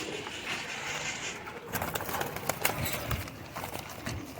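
Janseri teddy pigeons coo close by in a loft, giving soft low repeated calls mixed with rustling and fluttering movement, and there is no talking.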